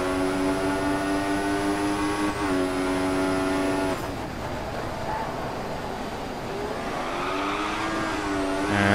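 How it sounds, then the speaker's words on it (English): A Formula 1 race car in the Formula 1 2014 video game at the Bahrain night race spins out, its high engine whine dropping abruptly mid-spin, then revving back up as other cars pass, loud and continuous with no speech. "Car spinning."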